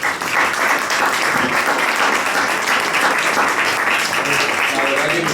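A steady, loud burst of crowd applause fills a room at a Rioja wine tasting event, with voices mixed into the dense clapping throughout.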